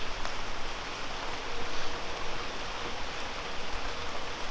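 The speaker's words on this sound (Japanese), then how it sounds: "わざわざね、ちょっと小雨の日を狙ってきたんですけど" Light drizzle falls through a park forest, a steady soft hiss of rain on leaves and ground that stays even and moderately close throughout, with no voices.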